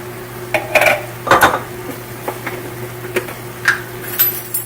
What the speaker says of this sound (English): So I am gonna put in our big can of tomatoes, just like this. Try to scrape out any that are in here.